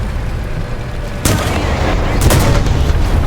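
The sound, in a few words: gunfire hitting tank in War Thunder video game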